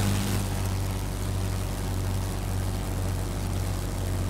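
A biplane's propeller engine drones in World of Warplanes, a steady loud low hum with rapid airscrew pulsing that continues without a break throughout.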